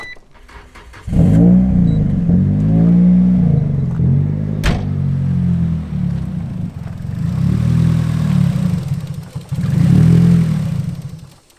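A Nissan S14 engine cranks and catches, then revs up and down in loud, uneven surges before settling, close up with no talking; the MAF sensor may be faulty.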